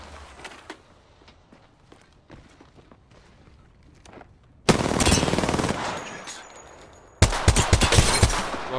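In Apex Legends, machine gun fire erupts in two loud sustained bursts after a stretch of quieter footsteps and faint game noise, with no one talking.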